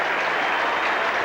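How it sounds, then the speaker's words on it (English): Steady applause from a cricket crowd at a 1985 England v Australia Test at Edgbaston, greeting a batsman's century; dense, continuous clapping filling the whole moment with no voices standing out. "And even the bowler is clapping"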